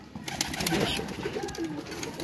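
Flying pigeons in a loft coo steadily in low, rolling calls, close and fairly loud, with no talk over them.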